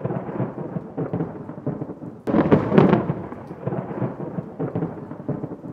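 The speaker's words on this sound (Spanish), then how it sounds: "Como que ya se nos viene la tormenta, pero qué bonita manera de recibir la lluvia." Thunder from an approaching storm rolls over a hotel in Chalatenango, El Salvador, with a loud rumbling burst midway over steady rain and no talk.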